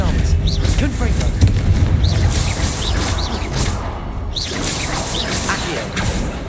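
Confringo blasting-spell explosions in the Hogwarts Legacy video game come as repeated booming bursts amid dense combat effects and music, with a voice calling out spell names over the din.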